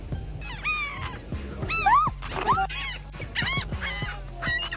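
Several seagulls call over and over at the beach, harsh rising squawks overlapping one another, with a constant low rumble beneath.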